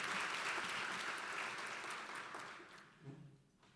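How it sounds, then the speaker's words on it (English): A room of attendees at a mental wellness event applauds, a full, dense burst of clapping that holds steady and then fades out over the last second as a voice begins. "Let's give Kate a round of applause for being so brave today with that"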